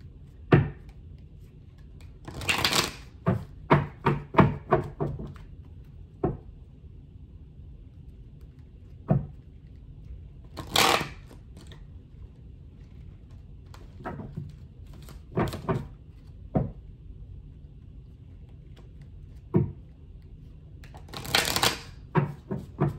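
Oracle cards shuffled by hand in repeated bursts of crisp riffling and tapping, close and clear, with quiet gaps between bursts and no talking.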